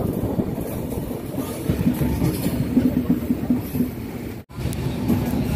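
The Padatik Express rolls along the track, heard from on board as a continuous rumble with faint rhythmic clatter of the wheels, steady and close, with a brief dropout near the end and no talking.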